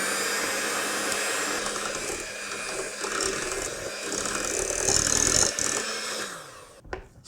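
An electric hand mixer whirs continuously through pumpkin bread batter, a steady buzzing motor hum with slight changes in load and rattling, close up, cutting off abruptly near the end.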